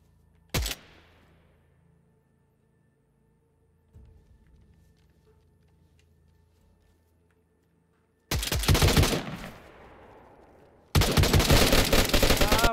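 Gunfire in the survival video game DayZ: a single sharp shot, a faint distant report, then two long bursts of rapid, loud automatic fire later on.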